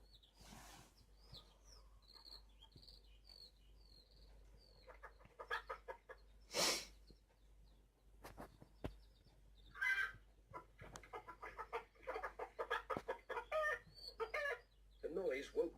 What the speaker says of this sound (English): But Mrs. Thompson's hens were wide awake